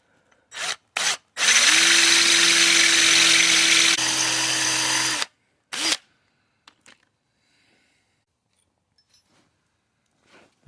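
A power drill with a 7 mm bit drills into a metal glow plug, whirring steadily for several seconds, bracketed by short bursts and brief grinding bites, then quiet with small clicks.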